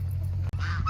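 Village ducks give a single nasal honking call, close and clear, with a brief gap in the middle.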